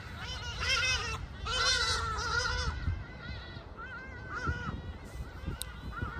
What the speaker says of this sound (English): Oh, look at these birds.